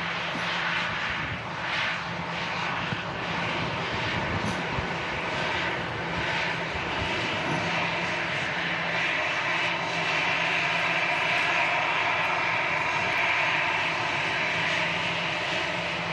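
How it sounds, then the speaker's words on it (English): An easyJet Airbus A320 arriving from Nice at Manchester Airport, its engines making a steady distant roar and whine that holds throughout, heard alone without talk. "EasyJet A320 coming in from Nice."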